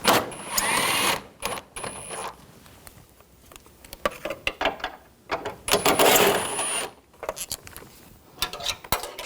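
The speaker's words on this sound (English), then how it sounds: "We're going to take these two bolts out." A 10 mm socket removes bolts in the engine bay of a 2012-2015 Honda Civic, making clustered bursts of quick metallic ratcheting clicks, close and fairly loud, separated by short quieter pauses.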